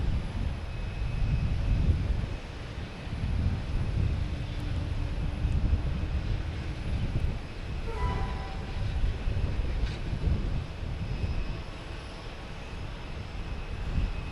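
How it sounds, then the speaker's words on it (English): A Delta Embraer 175 regional jet arrives over the waterway at the end of the runway at Boston Logan Airport, heard as a steady, broad engine roar that holds for the whole stretch with no voices. "Next to arrive, we have a Delta coming from Newark, flight 5829, an Embraer 175, going over the waterway at the end of the runway"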